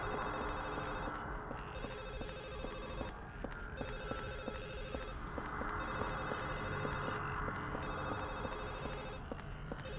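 A telephone rings continuously inside the Silent Hill 4: The Room survival horror game on Xbox, its repeating electronic bell tones steady and fairly loud over a low ambient drone, with no talking.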